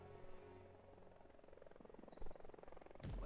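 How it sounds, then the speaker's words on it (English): A scout helicopter in the Vietnam War game Ia Drang, its rotor giving a steady low chopping drone with a fluttering pulse, moderately close, swelling toward the end. "I will send my scout helicopter a bit closer"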